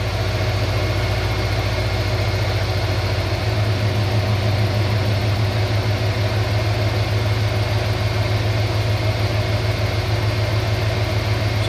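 A 1986 Ford Bronco engine idles steadily during a cooling system test with a new aluminum radiator and dual fans, a loud continuous low rumble with constant mechanical hum close by and no talking.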